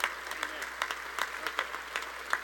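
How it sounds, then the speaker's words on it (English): Audience applause at the opening ceremony of the RWJBarnabas Health Athletic Performance Center, a steady wash of clapping with louder individual claps standing out at irregular moments, somewhat distant and sustained throughout. "that deserves a round of applause."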